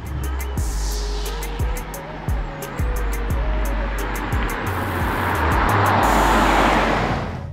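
A Mercedes-AMG E63 S sedan cruises with its exhaust audible, a steady loud engine drone with recurring low pulses and a rising rush of road and wind noise toward the end.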